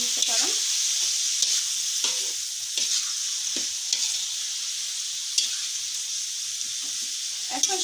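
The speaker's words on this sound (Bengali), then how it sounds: "এখন সব কিছু দিয়ে এটাকে নেড়ে চেড়ে নেব।" Beef bun filling with tomato sauce sizzles continuously in a hot pan while a spatula scrapes and taps repeatedly, producing sharp clacks over the steady frying hiss, close and fairly loud.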